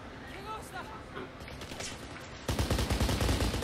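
Enemy gunfire in the video game Kane and Lynch, rapid automatic bursts that grow louder and denser toward the end, mixed with voices talking.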